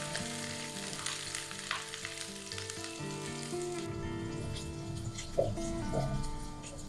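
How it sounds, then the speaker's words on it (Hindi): Ginger and garlic sizzle in hot oil with whole spices, a close, steady crackling fry with occasional stirring clinks, no talking over it. "अदरक लहसुन को करेंगे लाइट गोल्डन होने तक फ्राई"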